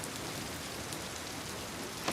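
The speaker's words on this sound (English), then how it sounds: "Man, does that rain ever look good just coming through here?" Steady rain falls in The Last of Us Part II, set in Seattle, a dense even patter on surfaces that is moderately quiet and continuous, with a small clatter right at the end.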